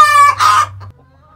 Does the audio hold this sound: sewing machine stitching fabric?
no